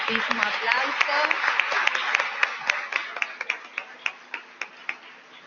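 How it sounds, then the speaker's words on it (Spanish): Applause from a conference audience at the close of a teaching-post competition session: dense, steady clapping that thins into fewer, louder individual claps before fading out. "los despedimos nuevamente con un fuertísimo aplauso"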